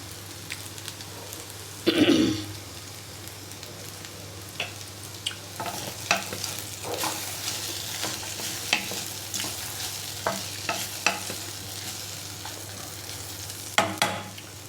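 Okra frying in a pan with a little gram flour mixed in, a steady sizzle broken by a louder burst of stirring early on and scattered scraping clicks of the spatula throughout.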